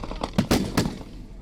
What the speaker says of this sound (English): which is sound of sniper fire or certainly gunfire coming in from Islamic State